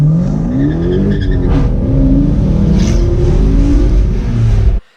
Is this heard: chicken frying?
no